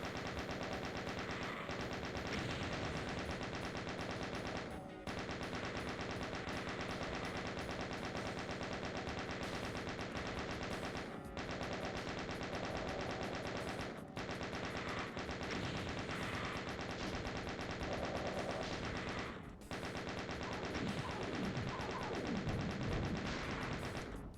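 Sustained chaingun fire in Doom II, a relentless stream of rapid shots running nearly the whole time with only a few brief breaks, loud and close throughout.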